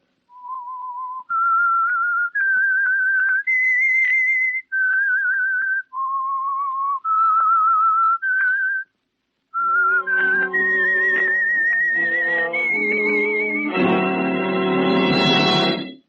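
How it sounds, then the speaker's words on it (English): Someone whistles a slow melody of sustained, steady notes, clear and close; partway through, a fuller orchestral accompaniment swells in beneath it. "That whistle is your signal"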